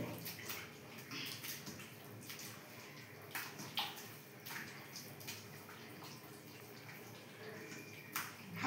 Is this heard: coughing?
no